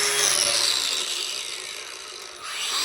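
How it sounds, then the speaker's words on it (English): Hand-held angle grinder grinding a metal plate on an e-motorcycle build, a loud steady high-pitched abrasive whine that dips slightly in the middle and then swells again, with no voices. "But you see me turn my grinder the other way."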